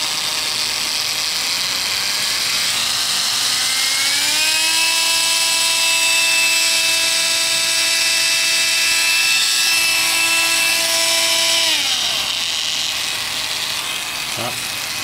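A compact mini electric chisel machine runs at its lowest speed, a steady high-pitched motor whine that rises in pitch after a few seconds, holds, then drops before it stops.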